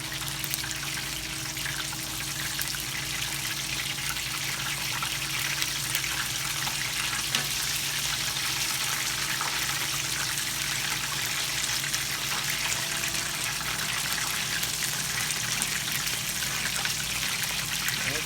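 Tempura-battered cod frying in hot oil that has been turned down, a steady, even crackling sizzle with a soft bubbling hiss, continuous and close with no talking.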